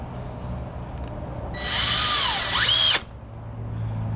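A power drill drives small one-inch screws into barn-door hinges on a pallet chicken coop, a single steady whine of about a second and a half rising in pitch as the screw seats, then stopping abruptly.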